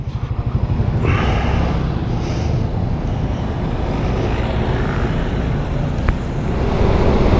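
A Suzuki Satria FU motorcycle ridden along a road toward the Puncak highlands, its engine a steady drone under heavy wind buffeting the microphone, continuous throughout with no speech.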